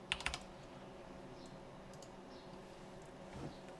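Typing on a computer keyboard while building a game in Unreal Engine, a quick cluster of light key clicks near the start and a few more near the end, close and quiet in a calm room.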